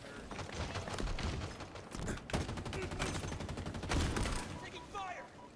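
Dense bursts of automatic gunfire crackle through a Halo Infinite multiplayer firefight, rapid volleys stacking up with heavy thuds and a few mechanical clicks, while voices talk over the action.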